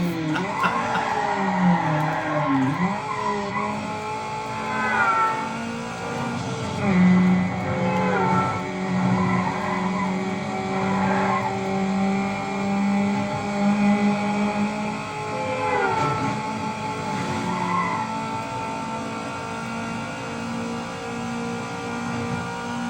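A car engine revs hard in Need for Speed Underground (2003), racing game audio with the engine note rising and falling through the whole stretch, tire skids and squeals mixed in, loud and continuous.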